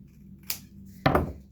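Scissors cut through folded paper along a drawn line in two quick snips, a light click followed by a louder, fuller crunching cut, close up and alone.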